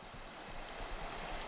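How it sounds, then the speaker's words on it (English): A small mountain creek flows steadily along a trail, giving a soft, continuous broadband babble and hiss heard at low level. "So this is the creek that the trail has been following."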